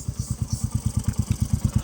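A motorcycle engine on a mountain road near Siliguri, Darjeeling, chugs with a steady, evenly spaced low thump, as if idling or rolling in slowly, moderately close and with no talk over it.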